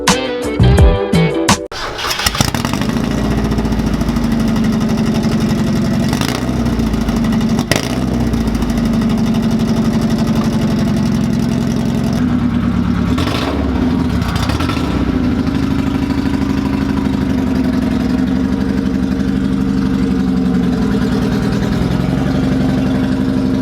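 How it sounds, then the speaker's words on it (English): A Mazda Miata's engine, running with the exhaust removed and only the header fitted, cranks and fires, then settles into a loud, raw, steady idle with a clattery edge, close and continuous throughout. "now we're just gonna start the car and see what it sounds like"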